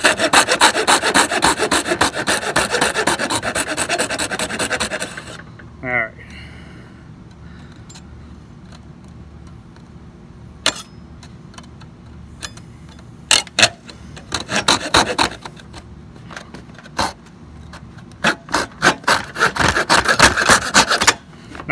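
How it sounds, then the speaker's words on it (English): Hand sawing of relief cuts into the edge of a wooden baseboard being coped, heard as a long burst of steady back-and-forth rasping strokes up close, then a pause and several shorter bursts of sawing. "Now I'm gonna put some relief cuts on the edge because you gotta be careful right here not to break these small pieces"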